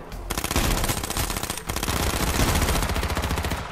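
Rapid automatic gunfire from the online battle-royale shooter H1Z1 hammers out in dense, continuous bursts, loud and close, with only a brief gap near the middle.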